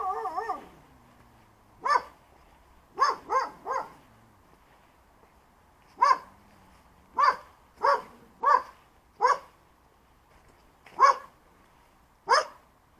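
Several dogs bark in scattered single and double yaps over about thirteen seconds around old houses on a hillside slope in Vozneseniyka, Zaporizhzhia, fairly close and clear against a quiet background, with a brief whine at the start.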